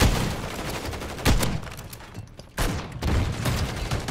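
Bursts of automatic gunfire in a Modern Warfare 3 multiplayer match on the Vista map, dense and continuous rattling with sharper loud volleys and a brief lull partway through.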